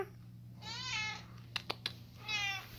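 A 20-year-old cat gives two drawn-out meows, with a few soft clicks or taps between them, close and fairly quiet against a low background hum.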